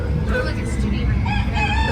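Rooster crowing amid a noisy background with a low rumble and people talking nearby, the call moderately loud and partly masked.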